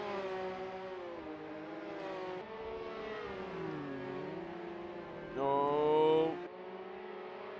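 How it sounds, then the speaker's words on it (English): A V8 Supercar engine in a racing video game drones with shifting pitch through downshifts, then briefly surges louder and buzzes as it bounces off the rev limiter. A short exclamation is heard. "Richards on the rev limiter on the downshifts"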